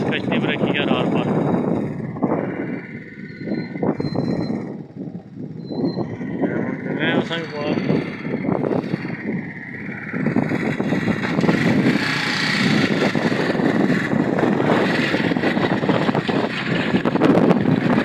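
A boat carrying two or three motorcycles across a canal, its engine droning steadily throughout with wind buffeting the microphone, while someone talks over it nearly the whole time.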